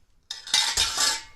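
Metal spoon scraping and clinking in a bowl while coarse sugar is stirred into yogurt, a few close, bright scrapes and taps starting after a short silence.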